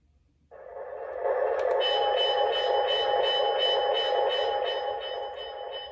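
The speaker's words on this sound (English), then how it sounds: "It's probably the loudest bell that I have on any of my engines" A loud, steady electronic bell from a Menards F3 O gauge model locomotive rings continuously with a regular clanging pulse, starting abruptly and holding for several seconds with no talking.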